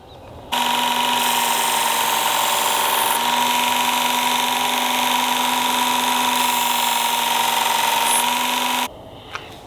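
A Work Sharp Ken Onion Edition sharpener with its blade grinding attachment runs a belt against a knife blade. It makes a loud, steady motor whine with a grinding buzz for about eight seconds, then stops abruptly.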